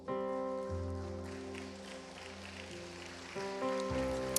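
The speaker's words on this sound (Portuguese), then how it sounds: "Pode tomar assento, dando um aplauso para o Senhor." A church congregation claps steadily through a worship service, the dense, diffuse applause blending under sustained keyboard or organ chords that shift a few times and play without pause.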